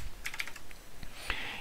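Brief burst of typing on a computer keyboard, a quick cluster of close, crisp key clicks followed by a louder keystroke and a short trailing rattle, with no speech.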